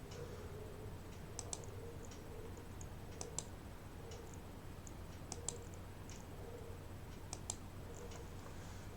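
Light, crisp computer mouse clicks while drawing chart levels for market analysis, scattered in small clusters over steady low background hum, near and fairly faint, with no talking.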